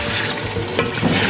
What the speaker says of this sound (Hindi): आप इसमें डाल देंगे आधा गिलास पानी